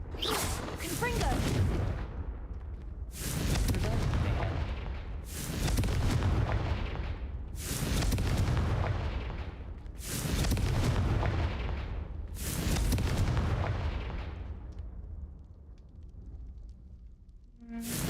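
Confringo spell blasts in Hogwarts Legacy come as six heavy booming explosions at regular intervals of about two seconds, each decaying into a rumble, loud and close, with a voice speaking between them.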